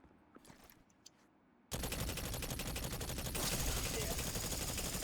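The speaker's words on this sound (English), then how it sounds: "Tommy's is a really good example of a more heavy-handed machine or auto rifle." Tommy's auto rifle in Destiny 2 fires a sustained, dense burst that starts abruptly after a quiet opening and rolls on loud and continuous to the end, a steady rapid rattle of shots.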